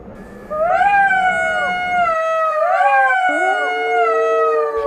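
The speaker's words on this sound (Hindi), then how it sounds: "सियार की आवाज खेत के कुछ दूरी पर रहने वाले किसान के कानों में पड़ गई।" Two long, wavering jackal howls rise and fall one after another in a farm-field setting, loud and close, with no talk over them.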